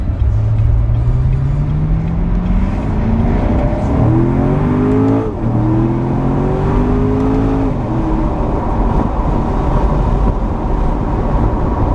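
A 2015 Corvette Stingray Convertible drives fast with a loud, steady engine roar, rising through several gear shifts, with the pitch climbing and dropping at each change.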